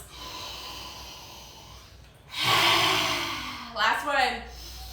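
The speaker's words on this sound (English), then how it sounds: "In through the nose." Deep breaths drawn in through the nose come as two close, loud inhales with a snorting, airy rush, the first long and the second shorter, after a quiet start.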